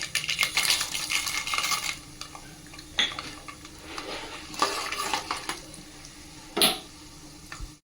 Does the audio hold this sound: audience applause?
no